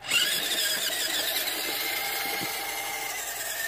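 A WPL C54-1 1/16 RC crawler with a 260 electric motor runs at full throttle, giving a high, steady motor and gear whine with a sharp onset that settles into a constant buzz, alone and fairly close.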